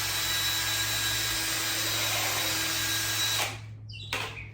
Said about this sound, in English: Drill all the way through the other side